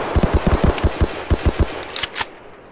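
Suppressing gunfire in the video game Escape from Tarkov, a rapid evenly spaced automatic burst of about a dozen loud, close shots, then a few scattered sharper cracks.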